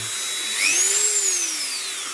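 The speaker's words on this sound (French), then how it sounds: "Là maintenant, avec la ponceuse," A power sander whines at a high pitch on an aluminium alloy wheel, rising as the motor speeds up and then gradually dropping, heard alone and close.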